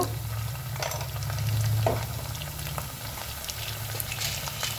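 Spices with ginger-garlic paste, turmeric and black peppercorns frying in a pan for a cabbage fry, a steady close sizzle with scattered crackles and a brief louder stir partway through.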